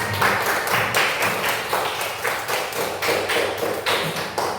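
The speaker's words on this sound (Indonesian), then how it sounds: "Tepuk tangan." Children in a primary school classroom clap their hands together in a steady, even rhythm, a run of crisp, regularly spaced claps that carries on for several seconds without talk.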